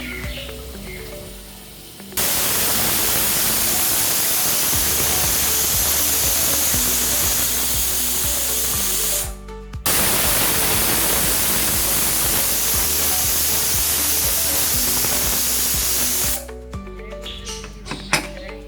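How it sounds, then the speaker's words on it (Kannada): A pressure cooker steaming Karnataka-style vangi bath releases loud, sustained hissing bursts of steam with short gaps between them, close and alone with no talking. "ಎರಡು ವಿಸಿಲ್ ಬರೋವರೆಗೂ ಕೂಗಿಸಿ"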